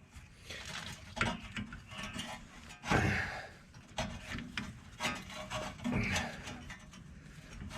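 A tool turns the rear brake caliper piston back in on a 2012 Mazda 3, making close, irregular scraping and ratcheting grinds in short bursts with brief pauses, fairly quiet.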